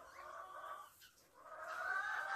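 A yellow rooster guarding tomato plants in a garden clucks softly in a few drawn-out calls, with a short pause midway. The calls are faint and somewhat distant, with no speech.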